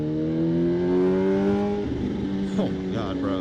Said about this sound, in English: Oh, my God, that exhaust sounds so good.